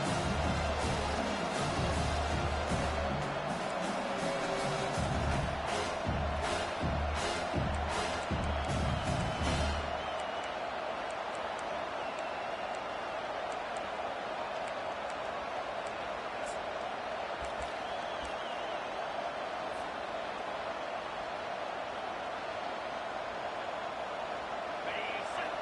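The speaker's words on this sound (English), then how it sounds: "This crowd, full throat, splitting the eardrums" A football stadium crowd at a Texas Tech vs South Carolina game roars loudly for about ten seconds, then settles into a steady, quieter murmur, with a commentator talking throughout.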